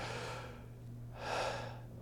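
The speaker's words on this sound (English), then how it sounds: "learn how to breathe in your belly, diaphragmatic breathing, instead of" Diaphragmatic belly breathing: two slow, close breaths, a soft one and then a fuller, louder one a moment later, alone over a faint steady low hum.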